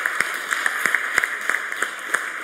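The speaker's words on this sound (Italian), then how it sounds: "ringrazio e faccio l'applauso agli attori che sono presenti in sala" Scattered, sparse clapping in a hall honouring actors after a performance, a handful of distinct claps over a steady background hum, fairly thin and brief.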